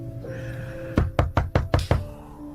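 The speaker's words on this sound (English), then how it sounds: "You can hear loud banging coming from the door." Loud banging on a wooden door: six heavy, closely spaced knocks in a fast, slightly uneven rhythm, close and prominent over a low background hum.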